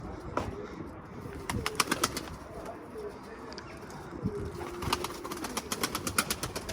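Sabuni pigeons coo softly amid strong gusty wind and occasional wing flaps, with a few sharp clicks scattered through; the birds sound near.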